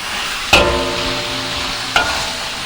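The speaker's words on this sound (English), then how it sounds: "just kind of stir fry that until it gets Stir fry it nice up. and brown" Watercress stir-fries in a hot pan, giving a steady close sizzle, with two sharp clinks of a utensil against the pan about a second and a half apart.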